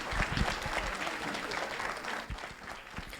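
A banquet audience applauds in welcome for a guest speaker at the Hazel Park Promise Zone event, dense steady clapping filling the room with a faint voice or two mixed in.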